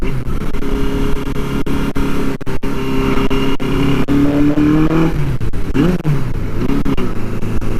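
A Suzuki GS850 scrambler motorcycle with a Mach 4-in-1 exhaust rides on the road, its engine droning loud and close with steady wind rush and a few shifts in pitch toward the end.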